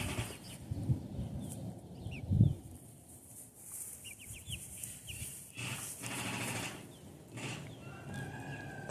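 Backyard chickens cluck and murmur close by in a loose, irregular pattern, with scattered short calls and a few brighter chirps over a soft outdoor background, no talking.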